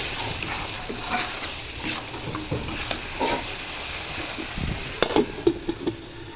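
Chicken with spices, ground cinnamon and cardamom paste being stirred and fried in a pan, with steady sizzling and scraping stir strokes, a few sharper utensil knocks near the end, close and moderately loud.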